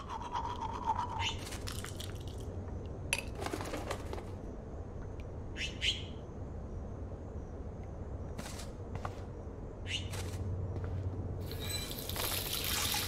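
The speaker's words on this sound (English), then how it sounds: "Feels so good to wash my face after all that chlorine and hiding." A Life Is Strange character washes her face at a bathroom sink, with running tap water, brief splashes and scrubbing bursts over a quiet room hum.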